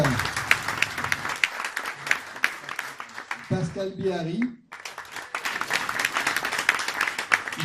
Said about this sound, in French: Donc je vous demande de les applaudir.